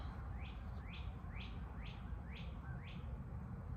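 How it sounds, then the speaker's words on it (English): Birds chirp outdoors in a regular series of six bright, rising calls spaced about half a second apart, moderately faint over a low, steady background. "There's birds talking"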